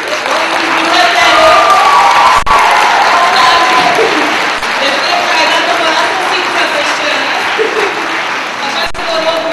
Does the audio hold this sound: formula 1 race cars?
no